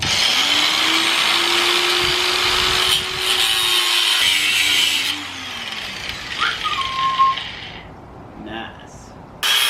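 A power saw cuts through a part to take a quarter inch off while adding angle to a 350Z, a loud close grinding whine running steadily for several seconds before winding down into quieter handling clatter.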